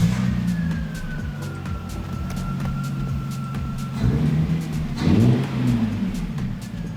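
A Lexus GS300 with its muffler removed idles and then revs in short bursts close by, its raw exhaust note rising and falling several times.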